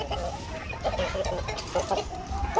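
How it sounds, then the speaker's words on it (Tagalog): A Rhode Island Red rooster on a farm clucks in short repeated bursts at moderate distance, joined by other fowl in a steady background of low farmyard noise. "Ito, Rhode Island Red na rooster, pwede yan."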